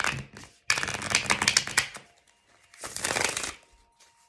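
Oracle message cards are riffled in two close, crisp bursts of rapid flapping, with a short pause between them and quiet handling sounds before and after.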